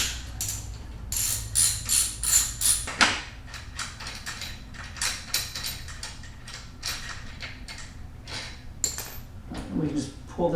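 A ratchet turns a 12mm nut off the rear set of a 2019 Honda Monkey motorcycle, giving rapid bursts of close, crisp clicking strokes with short pauses between them and soft handling noises alongside.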